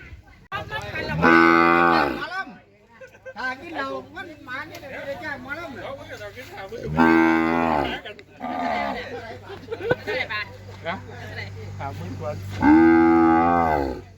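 Cattle low at a village cattle market in Chaiyaphum, Thailand: three long, loud moos spaced several seconds apart, with someone talking throughout in the background.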